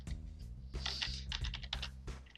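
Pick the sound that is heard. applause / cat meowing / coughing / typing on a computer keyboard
typing on a computer keyboard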